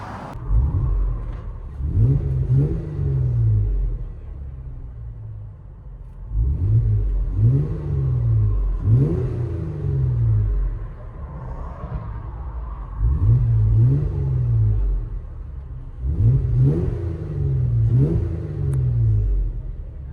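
A 2014 Jeep Wrangler Badland Edition with a 3.6L V6 and Borla ProXS exhaust revs repeatedly from inside the cabin, four loud, rumbling bursts rising and falling in a steady cycle with brief idle between.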